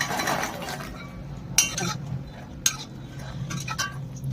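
Soya chunks stirred into masala in a pan for chilli soya Manchurian, heard as soft scraping with a few sharp clinks of a spoon against the pan, close and fairly quiet.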